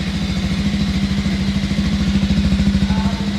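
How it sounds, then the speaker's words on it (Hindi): A Bajaj Pulsar 180F BS6 ABS motorcycle idles close by at about 1300 rpm just after its first start, its engine thumping in a steady, even rhythm throughout. "तो ये आइडलिंग था इसका आइडलिंग अभी आपको दिखा रहा है तब लगभग 1300 आरपीएम का।"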